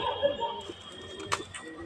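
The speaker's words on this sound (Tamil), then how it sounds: "நெக்ஸ்ட்டு நம்மள்கிட்ட புறா சிக் 2 இருக்குது, அவங்களுக்கு ஃபீட் பண்ணிடலாம்" Pigeon chicks kept in a cage cooing softly in a short, uneven series of low calls, close by, with a brief flutter near the end.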